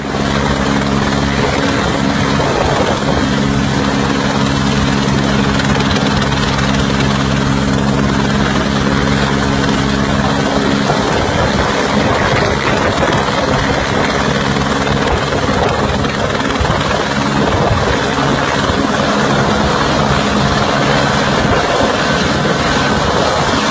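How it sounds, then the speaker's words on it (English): A yellow helicopter sliding across ice, its rotor and engine roaring loudly and steadily throughout with a strong low throbbing hum and no talking. "This yellow helicopter is skating on the ice."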